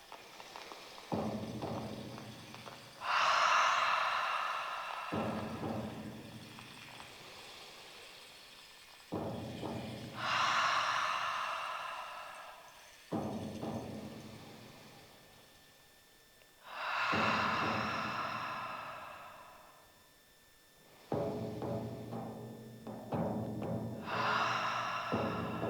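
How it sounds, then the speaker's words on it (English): Slow guided breaths during a cacao ceremony, drawn in through the nose and let out through the mouth, repeating in long, even cycles several seconds apart. Each inhale and exhale is clearly audible and close, with no talking. "breathe in through your nose and out through your mouth"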